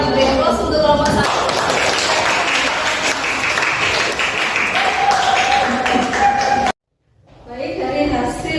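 A classroom applauds a presenting group: dense, loud clapping from many hands for several seconds, fading into a voice, then a brief silence before further talking and noise.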